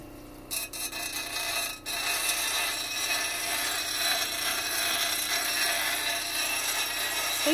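A rune stone is smoothed with an abrasive sheet in a lapidary setting, giving a continuous close scratchy rubbing that runs steadily throughout after a few brief scrapes at the start.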